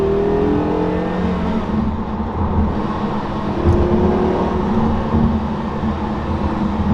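A Porsche Carrera GT engine hums and drones steadily while driving, with a constant rumble of road noise and slight shifts in pitch, no talking.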